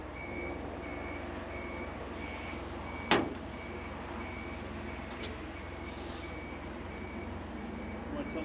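A truck backs up with a steady series of evenly spaced reverse beeps over a low engine rumble, interrupted midway by a single sharp metallic bang.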